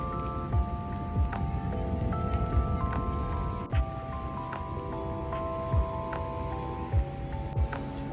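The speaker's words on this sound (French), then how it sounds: "il pleut encore un peu," Light rain falling on a Tokyo street, a steady soft patter of drops with faint distant city hum underneath and occasional louder splats close by, no talking.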